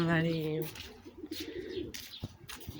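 Pigeons cooing close by, one loud rolling coo at the start followed by softer, busier bird sounds and light rustling, with a person speaking quietly in the background.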